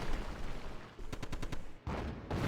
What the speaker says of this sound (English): Excellent shooting with the anti-tank equipment. And the grenade for the finish.